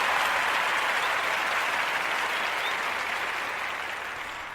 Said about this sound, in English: Round of applause for Gwinnett Rotary Club,